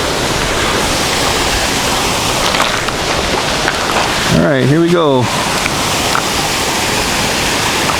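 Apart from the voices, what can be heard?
river waterfall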